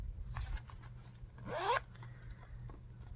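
A zipper on the zip pocket of a Vera Bradley bag is pulled once in a quick, sharp rasp lasting about a third of a second, heard close and alone over faint background hum.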